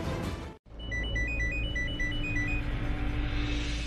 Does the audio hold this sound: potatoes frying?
no